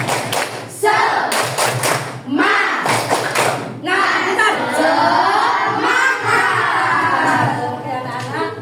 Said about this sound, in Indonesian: sebelum kita mulai pelajaran kita tepuk semangat dulu